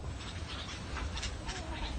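A cat in Sylhet gives faint, drawn-out cries under a steady outdoor background hiss, close by but quiet, with no clear speech.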